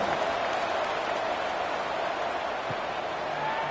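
Stadium crowd at a college football kickoff in a video game, Syracuse at Miami, a steady wash of crowd noise and applause, even and moderately distant throughout.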